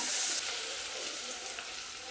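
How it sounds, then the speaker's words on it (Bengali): Onions frying in ghee for beresta, a dense, steady sizzle heard up close and continuously, slightly louder at the very start, with no talk. "পেঁয়াজের বেরেস্তা করে রাখবো, ওটাতে একটু ঘিয়ের ফ্লেভার আসলে খেতে অনেক ভালো"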